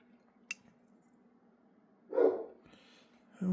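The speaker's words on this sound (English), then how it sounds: "Oh, the dog is barking." A dog in a house barks once, a single muffled bark heard at a distance, followed by a faint second sound near the end, in an otherwise quiet room.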